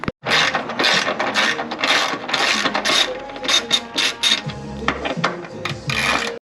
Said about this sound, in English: you're gonna take a 13mm just to go ahead and crank these bad boys off